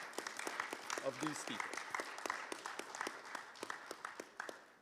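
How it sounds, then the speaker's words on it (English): A conference audience in Baku claps together in crisp, rapid, closely packed hand claps that hold steady for several seconds, with a voice speaking over the applause. "the rest of us will show appreciation by giving you a round of applause"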